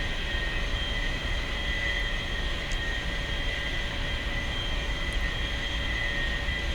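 Steady jet engine whine and rumble from an A-4E-C Skyhawk taxiing along a runway in DCS, a continuous even drone with a high tonal hum and no voices.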